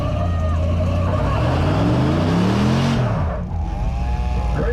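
A drag-racing pickup truck with a stock 6.0 Vortec engine and a 6L90 transmission at a dirt drag race, loud and close, its engine revving and rising in pitch through the gears, then lifting off and dying away.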